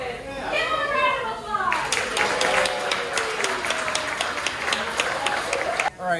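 A restaurant crowd at Beaches & Cream, a Disney dining spot, breaks into steady, dense clapping with scattered voices and children's chatter, preceded by a brief stretch of talk before the applause swells.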